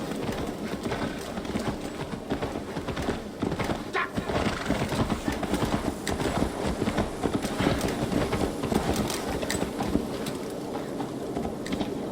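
A horse's hooves clop steadily in the game Assassin's Creed Valhalla, a continuous rapid trotting rhythm lasting the whole stretch, loud and close with background game ambience.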